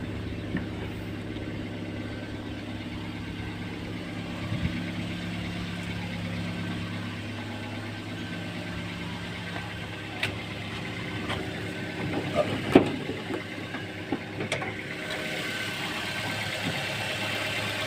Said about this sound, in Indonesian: Mesin juga masih halus